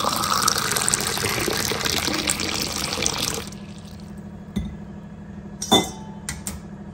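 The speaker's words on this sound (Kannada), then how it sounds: "ಈಗ ಬೆಳಿಗ್ಗೆ ನಾನು ಬಿಸಿ ನೀರನ್ನು ಕುಡಿತಾ ಇದ್ದೀನಿ" Hot drinking water pours into a glass in a kitchen for about three seconds, then stops, leaving a few light clinks and knocks of the glass.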